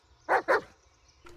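A dog barks in the forest horror video game Blair Witch. Two sharp, close barks come in quick succession, then a short pause and a fainter yip or whine.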